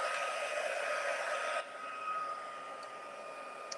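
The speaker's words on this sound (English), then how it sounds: "we're going to emboss that or heat set it." A heat tool blows steadily while heat-setting embossing powder on a handmade card, a continuous close whooshing roar that drops slightly in level partway through and keeps running to the end.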